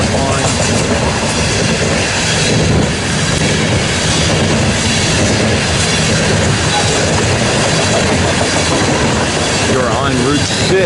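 A freight train led by heritage unit locomotives rolls past on nearby tracks, a loud, continuous rumble and rattle of wheels with occasional squeals, alongside a highway.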